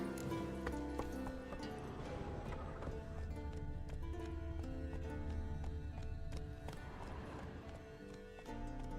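Horse hooves galloping in The Witcher 3 video game, a fast, steady clip-clop rhythm running throughout over a busy game backdrop, with faint talk underneath.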